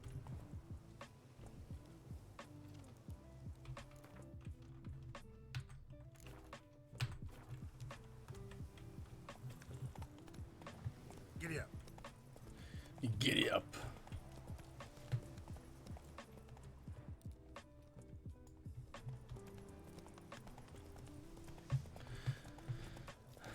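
Roach, a horse in The Witcher 3, galloping with steady rhythmic hoofbeats at moderate volume over a quiet ambient game background.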